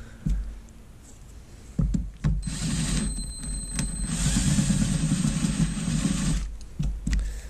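A hand drill bores slowly into a hydrofoil board insert, starting with a few short bursts and then running in one steady whining spell, heard up close.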